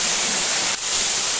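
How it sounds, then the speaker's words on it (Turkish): Rushing water at the upper part of the Cehennem waterfalls in Kırklareli, heard in winter as a dense, continuous hiss, loud and close, with a brief dip partway through. "Burası şelalenin üst tarafı arkadaşlar."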